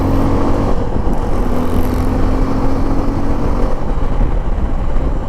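A Suzuki V-Strom SX 250 motorcycle rides at low speed in fourth gear through city streets, its engine giving a steady, close droning hum with traffic noise around it and no voices.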